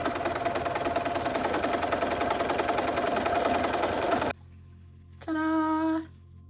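A sewing machine runs a basting stitch in a loud, steady rapid chatter for about four seconds, then stops abruptly; a short tonal beep-like burst follows near the end.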